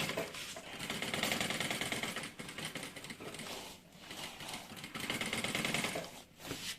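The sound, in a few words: sewing machine stitching a seam on the lining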